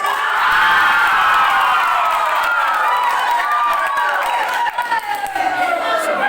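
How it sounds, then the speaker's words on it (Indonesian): A school crowd at a student council (OSIS) election at SMAN Santian roars and cheers for the winning candidates, loud sustained shouting and whooping from many young voices that eases slightly toward the end. "Kita berikan aplaus"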